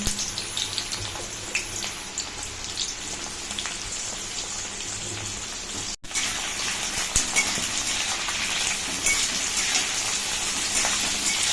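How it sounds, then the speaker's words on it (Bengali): Drumsticks frying with onions in a wok sizzle with a steady, hissing crackle at close range throughout, broken by one brief cutoff midway before the frying noise continues. "পেঁয়াজগুলো ভাজা হয়ে গেলে এর মধ্যে ডাঁটাগুলো আমি দিয়ে দেব।"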